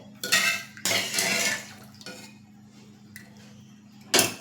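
A spoon scrapes and clinks against a metal pressure cooker pot in a few short bursts of stirring cracked-wheat lapsi with jaggery water, with quiet pauses between.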